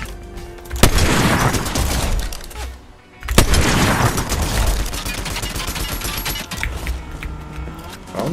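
Loud gunfire in a Fortnite-style ranked solo shooter match, dense bursts of rapid shots and impacts in two clusters separated by a brief lull, with clinking and mechanical game sounds around them.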